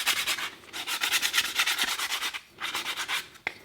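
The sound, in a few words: hand sanding a wooden mallet handle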